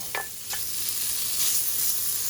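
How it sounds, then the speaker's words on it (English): Small pieces of streaky bacon, about 100 grams, frying in a hot multi-cooker pot as the fat renders, a steady close hiss with a couple of brief stirring scrapes. "Fry them for a minute or so until the fats are out."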